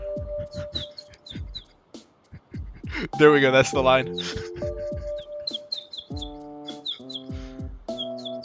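Bird chirping in the OMORI video game comes as short, high tweets in quick bursts, interrupted by someone talking and by a voice mimicking the bird calls with warbling vocal noises.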